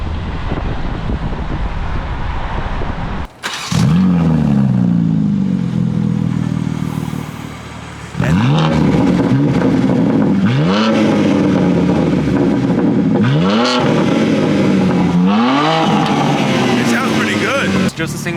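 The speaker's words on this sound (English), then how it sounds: "Just a single main pipe and the Dale exhaust valve." A BMW car with a single main exhaust pipe and exhaust valve, loud and close, revving in repeated rising bursts over a constant roar, with people talking at times.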